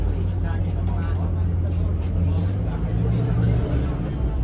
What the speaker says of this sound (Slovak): A takýmto preplneným autobusom sa vraciame naspäť na začiatok turistického chodníka.